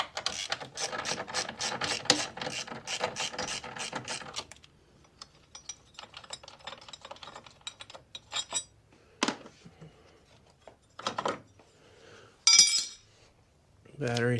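A ratchet with a 12 mm socket clicks in a rapid, continuous run on the battery bracket bolts of a Mk7 Volkswagen GTI, followed by scattered metallic clinks and short tool bursts.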